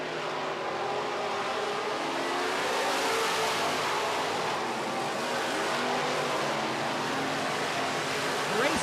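Midwest Modified race cars roaring around a track, a continuous loud engine drone with rising and falling revs as the pack passes, steady throughout.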